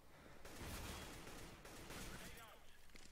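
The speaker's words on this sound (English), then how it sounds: "You heard some gunfire and then you heard him jump." A quick burst of video game gunfire, rapid muffled shots rolling into noisy rumble, fairly faint and continuous over about three seconds.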